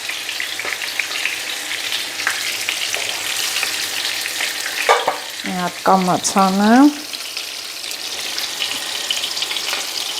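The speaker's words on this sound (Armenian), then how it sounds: "ես վերցնեմ կոտլետները, դա տապակվել է" Cutlets frying in oil in a pan give a steady, close sizzle throughout, with a brief burst of a voice speaking over it midway.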